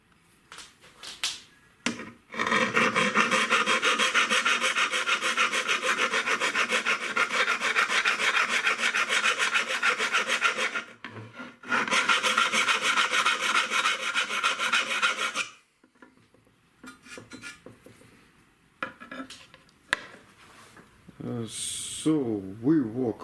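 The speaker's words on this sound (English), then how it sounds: "So we work hard with rasp, yeah, and prepared our pipe" A rasp files a square steel pipe for a long table, loud continuous rough scraping strokes in two long bursts, followed by quieter scattered handling sounds and light clatter.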